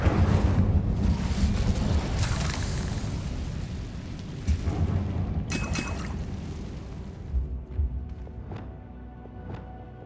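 Incendio fire spell in the Hogwarts Legacy video game bursts with a loud roaring whoosh and rumbling blast, then fades into quieter crackles and faint clicks.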